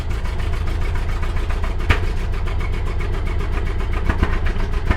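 An old 1929 Ford engine, just revived, runs steadily with a loud, close, rhythmic chugging idle and low throbbing pulses throughout, plus occasional sharper knocks and clatters.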